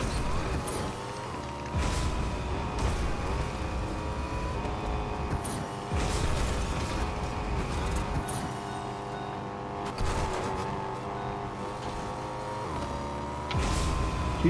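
Car engine driving in the Fortnite battle royale game, a steady continuous engine drone running throughout over in-game music and effects, with some talk underneath.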